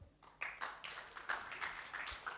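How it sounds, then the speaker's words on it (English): Quiet applause from a conference audience, a brief patter of hand claps with uneven pulses, fairly distant and soft, with no speech over it. "Let's give a round of applause."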